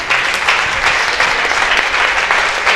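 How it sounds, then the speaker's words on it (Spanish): Steady, dense applause from a church congregation at a Sunday service, loud and continuous throughout with no pauses. "Le damos un fuerte aplauso a Dios"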